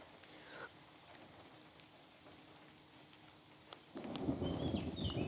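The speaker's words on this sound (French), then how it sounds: "J'entends les grondements de plus en plus présents autour de moi." Distant thunder rumbles through a weak thunderstorm, a low steady growl that swells louder near the end with rain-like patter and a few faint ticks mixed in.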